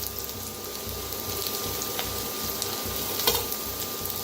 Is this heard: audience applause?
no